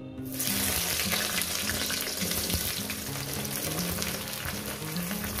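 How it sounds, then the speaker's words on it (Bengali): Eggplant pieces dropped into hot oil, setting off a loud, steady crackling sizzle that starts abruptly and continues strongly throughout, with no talking. "তো বন্ধুরা ওই তেলের মধ্যে আমি বেগুনগুলোও দিয়ে দেব।"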